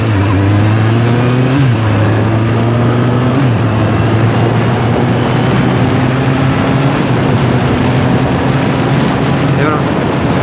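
A Kawasaki Z800e motorcycle engine revs up toward 4000 rpm, loud and close, with steady rising engine pitch stepping up in stages over continuous wind and road noise.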